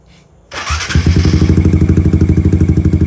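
A motorcycle fitted with a 51mm Akrapovic exhaust pipe starts with a quick crank, then settles into a loud, close, rapid and even idle pulse with a deep throaty rumble.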